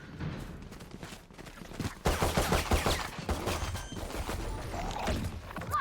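Valorant gunfire in a competitive match sounds as repeated bursts of shots, quieter at first, then a louder dense volley. It continues as fast rattling fire to the end, with no voice over it.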